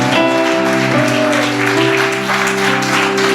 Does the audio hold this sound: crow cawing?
no